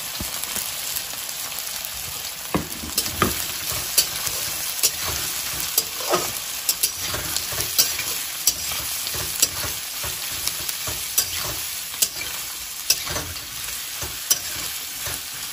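Seven sliced onions frying in plenty of oil for an Assamese mutton curry, a dense continuous crackling sizzle dotted with frequent sharp pops and stir clicks, close and steady throughout.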